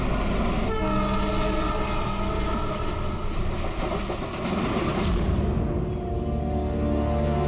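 Passenger train running on the rails, a loud, continuous rumble with clattering wheels and a sustained horn-like tone throughout, close and dominant, with no voices over it.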